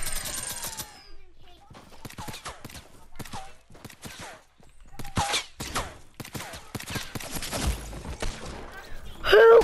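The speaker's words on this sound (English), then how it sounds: "The minigun is the stupidest thing ever," A Fortnite minigun fires in rapid, rattling bursts broken by short pauses, loud and close, with a voice speaking now and then between the volleys.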